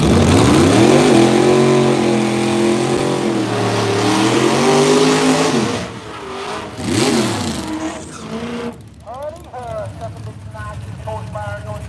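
A no-prep drag racing car at a dragway revs its engine loudly and close, the pitch rising and falling in several sweeps before dropping toward idle, with voices talking partway through.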